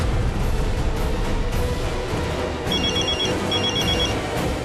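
A telephone rings on an outgoing call in two short bursts of electronic ringing over a steady, fairly loud background bed, with no talk.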